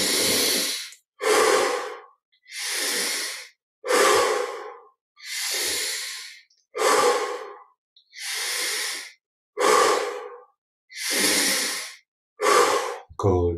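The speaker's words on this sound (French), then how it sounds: "Encore 8 respirations, prenons un peu plus d'air encore, plus d'oxygène." Deep, slow breathing during a guided meditation, about ten long audible breaths, each a drawn-out airy inhale or exhale separated by short silences, close and clear with no talking over them.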